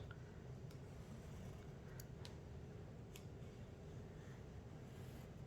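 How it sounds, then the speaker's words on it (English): A pencil traces around a mug onto cardstock, producing a faint, soft scratching in a quiet room with a few light ticks. "we are going to trace out a circle using our mug"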